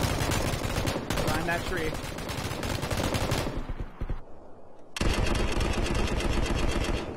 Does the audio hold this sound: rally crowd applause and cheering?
no